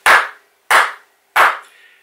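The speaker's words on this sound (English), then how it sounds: "I'm going to go ahead and just clap three times" Three sharp, loud hand claps sound alone at close range and evenly spaced, each one separated by silence, with the last clap leaving a brief ringing tail.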